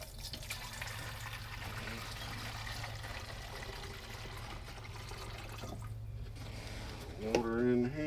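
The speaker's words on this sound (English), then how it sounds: "what we're going to do now is just fill it with some regular water" Regular water pouring into the tank of a garden sprayer, a steady trickling splash that runs for several seconds before changing near the end, with faint background sounds.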